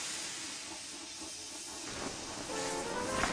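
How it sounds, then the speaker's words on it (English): A short hiss of escaping steam from a steam locomotive rises out of quiet background noise, growing louder toward the end of the few seconds. "he was so scared, he let out a huge burst of steam"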